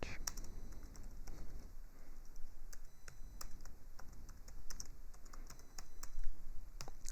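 Computer keyboard typing as names are entered into a sports vote-count web form, a quiet stream of rapid, irregular key clicks over several seconds with no voice over it.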